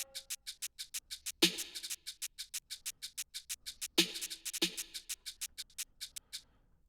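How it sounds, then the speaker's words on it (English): A drum rack pattern of rapid, evenly ticking shakers forms a steady crisp pulse, punctuated by a few deeper resonant tabla strikes, all close and dry with no voices. "which is just some shakers on a drum rack, and like this tabla sound"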